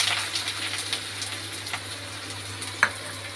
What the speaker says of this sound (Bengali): পেঁয়াজটা একটু ভেজে নিই ভালো করে